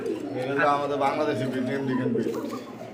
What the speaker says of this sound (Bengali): এটা কি কবুতর বলো ভাই শাটিন